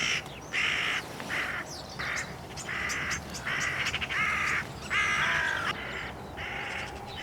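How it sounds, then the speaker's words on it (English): Hooded crow calling repeatedly in a series of harsh, rasping caws, loud and fairly close, with brief gaps between calls over a steady outdoor background hiss. "all the commotion the magpies were making finally attracted a hooded crow down"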